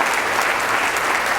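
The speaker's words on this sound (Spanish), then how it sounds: "Dale un aplauso al Señor en esta mañana" A church congregation at a Sunday morning service breaks into dense, even applause, many hands clapping together for the whole brief moment.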